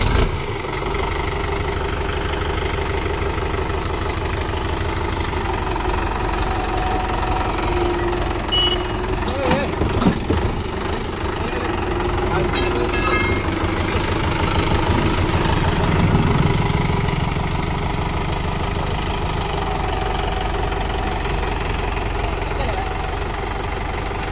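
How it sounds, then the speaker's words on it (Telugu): A Mahindra 3DX tractor engine labours to lift a fully loaded trolley with a punctured tyre, a low continuous diesel rumble with knocking pulses, rising in strain midway, while people talk over it. "చూస్తున్నారా ట్రాలీ తీయడానికి ఎట్లా లేస్తుంది ఇంజన్"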